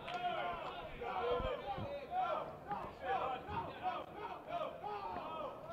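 Fans gathered at a high school baseball game make a steady murmur of overlapping voices and shouts, moderately loud and continuous, with scattered cheers rising from the crowd throughout.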